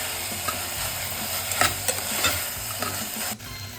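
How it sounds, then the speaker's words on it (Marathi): Sprouted matki (moth beans) roast in a pan, with continuous close stirring and scraping over a soft, steady sizzle, the stirring briefly pausing near the end. "मटकी चांगली भाजून घ्यायची, नाहीतर मग काय उग्र वास होतो त्याच्यात."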